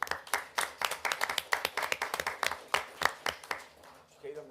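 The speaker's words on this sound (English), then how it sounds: "I think they deserve a round of applause for that." A small audience at a city council meeting claps in loose, uneven bursts, individual hands distinct and fairly close, tapering off near the end as a voice begins.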